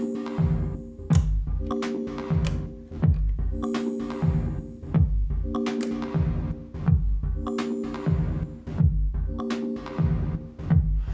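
A pulsing synth pattern drenched in reverb from a Torso S4 sampler, with rhythmic throbbing beats and ringing tails repeating steadily, no voices.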